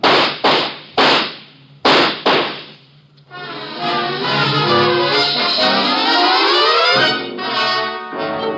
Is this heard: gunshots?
yes